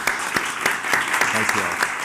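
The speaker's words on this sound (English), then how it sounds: "Let's give all the new commissioners a round of applause." A room of people gives a round of applause for newly appointed commissioners at a governor's weekly media briefing, with steady, close clapping that fills the short moment.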